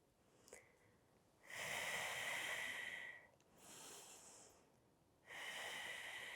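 Deep breaths during a Pilates reformer exercise: three long airy exhales and inhales, close and breathy, alternating with quieter pauses.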